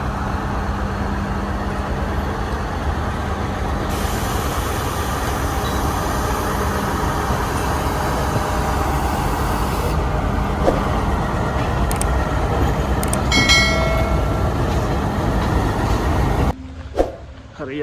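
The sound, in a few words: train passing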